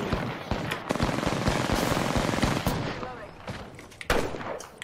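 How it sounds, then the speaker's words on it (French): Rapid video game gunfire crackles through a competitive match, sharp repeated shots under nearly continuous bursts with a louder cluster near the end, mixed with faint game noise. "ça tire alors que je veux pas tirer"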